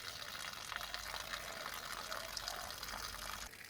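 Water draining out of a Ford 302 Cleveland engine during a rebuild, a continuous faint splashing trickle that runs steadily without pause.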